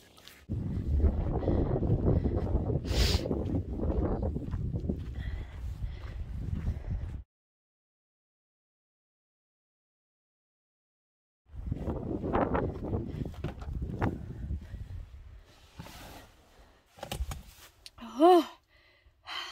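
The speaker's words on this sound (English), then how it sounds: "That wind was wild." Strong desert wind buffets the microphone in loud, broadband roaring gusts, cutting out for a few seconds of near silence before returning, with brief human breaths or sighs near the end.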